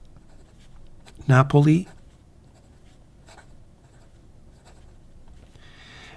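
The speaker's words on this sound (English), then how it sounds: "I mean, it just writes so beautifully." A Delta Napoli fountain pen with a Delta-branded number 6 nib writes on paper, making faint, soft scratching strokes at close range. A short spoken word interrupts partway through.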